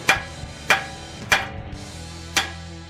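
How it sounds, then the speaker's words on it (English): A hammer smacks a car's lower control arm to knock it loose from the knuckle after the castle nut and cotter pin come off: four sharp metallic strikes, evenly spaced and close, with faint handling noise between. "I usually just take a nice little hammer on the other side."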